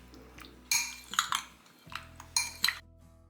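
Prawns are mixed with salt and turmeric in a metal bowl or dish, with a spoon clinking and scraping against it in several close, sharp bursts between brief quiet gaps.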